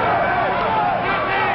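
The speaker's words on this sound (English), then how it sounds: "A crowd of noisy pickets descended on the command post, protesting the presence of nuclear weapons." A noisy crowd of protesting pickets at a military command post, a dense overlapping roar of shouting voices sustained loudly throughout.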